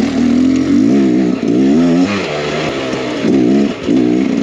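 An enduro dirt bike engine revs hard and close on a steep trail with gnarly step-ups, pitch climbing and dropping through repeated throttle bursts with brief dips between them, loud and continuous with no talk.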